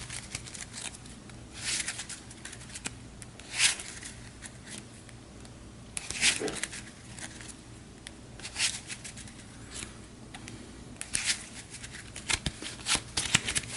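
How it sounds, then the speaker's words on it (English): Deck of cards from the Harry Potter Hogwarts Battle board game being shuffled by hand on a table, repeated quick riffling bursts every second or two, close and fairly quiet, with no talking. "We'll have to shuffle her deck up so she can draw back up"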